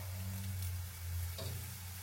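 Crepe batter sizzles in a frying pan, a steady close crackle over low kitchen hum.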